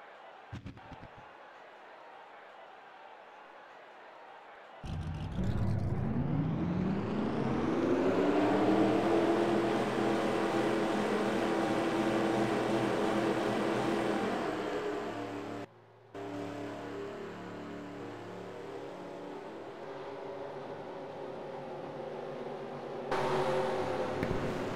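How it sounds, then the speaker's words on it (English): Forty stock car engines fire up together in a racing video game at Daytona for the Pepsi 400, a sudden loud roar that swells and holds as a sustained rumbling drone, briefly dipping before continuing. "Drivers, start your engines!"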